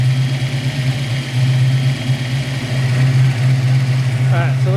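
A Ford Mustang Foxbody engine idles too high, a steady near, loud mid-pitched hum that holds without dropping, with a faint voice speaking briefly near the end.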